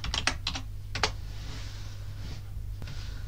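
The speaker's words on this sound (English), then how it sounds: "Type in my password." Quick keystrokes on a computer keyboard enter a password, a short cluster of crisp clicks at the start, then a couple more taps, over a constant low electrical hum.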